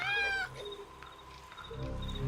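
A cat meows once in the god-simulation game Worldbox, a short clear meow at the start followed by quieter game sounds and low background tones.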